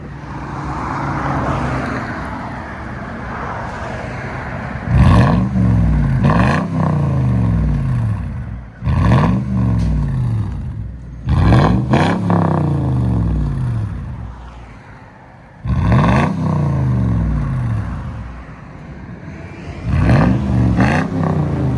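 A straight-piped 2005 Lexus GX 470 with its 4.7L V8 revs hard outside, loud blasts rising and falling in repeated pulls over a steady rough idle.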